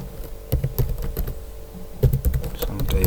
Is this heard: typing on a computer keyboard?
yes